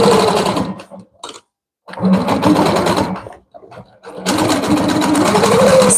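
A longarm quilting machine stitches through a quilt in steady mechanical bursts, loud and close, humming for a stretch, stopping briefly twice, then running again to the end, with no talking.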